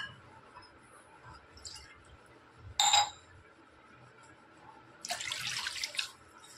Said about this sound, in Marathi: त्यामध्ये हे 2 ग्लास पाणी टाकून घेणार आहोत